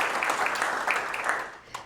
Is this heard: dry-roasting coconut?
no